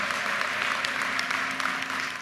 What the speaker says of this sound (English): How about another round of applause for Senator Cardin and Congressman Ruppersberger?